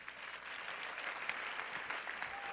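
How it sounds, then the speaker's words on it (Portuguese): A church congregation applauds, many hands clapping together in a steady, soft wash heard from some distance, continuous throughout with no voices on top. "Agora você pode aplaudir a Jesus."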